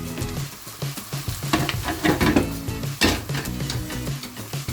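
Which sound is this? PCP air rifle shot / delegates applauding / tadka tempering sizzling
tadka tempering sizzling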